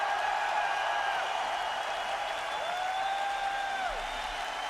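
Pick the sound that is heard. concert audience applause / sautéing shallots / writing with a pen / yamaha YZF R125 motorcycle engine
concert audience applause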